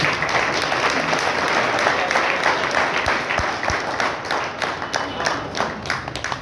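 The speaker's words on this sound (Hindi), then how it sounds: "एक बार जरा जोरदार हमारे शंकर भाव के लिए तालियां बजाइए जरा।" An audience at an organic farming training session in Kolhapur breaks into loud, sustained applause, a thick crowd of hands clapping continuously with a few sharper individual claps standing out near the middle.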